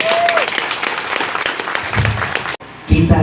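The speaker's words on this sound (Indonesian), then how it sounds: "Tepuk tangan buat mereka." Applause from an audience at an installation event for a community organization's district board in Cilincing, North Jakarta, dense clapping mixed with crowd voices, cutting off abruptly near the end before a speaker resumes.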